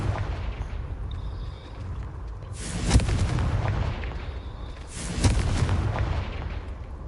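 Two deep booming blasts from the Confringo fire spell in Hogwarts Legacy burst out about two seconds apart, each a sharp crack with a rumbling tail over low game ambience.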